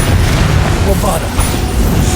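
A Bombarda spell explodes in the game Hogwarts Legacy with a loud, dense booming blast. It rumbles continuously across the moment among other game sounds and possible voices.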